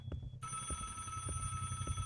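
Ringing mobile phone inside the game Doors: a bright electronic ringtone kicks in early and holds steady, layered over a dull repeating thump in the background.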